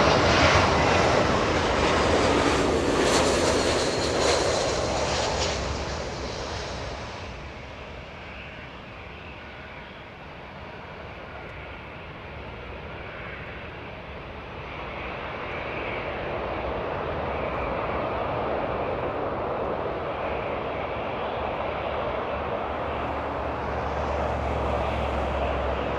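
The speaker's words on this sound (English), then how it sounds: "We have that A320 almost looking right at us." Airbus A320 jet at Los Angeles International Airport, a loud engine roar close by at first that fades, then builds again into a steady distant rumble, heard alone without talk.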